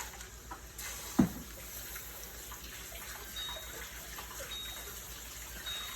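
A kitchen tap runs faintly over tomatoes being rinsed, a soft steady water hiss with a brief splash or clunk near the start.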